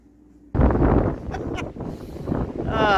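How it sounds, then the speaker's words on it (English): Gusty wind buffets the microphone at Yakutania Point near Skagway, Alaska, a loud broadband rush that starts abruptly and keeps roaring steadily, with faint rustling underneath and no speech. "it's a bit windy"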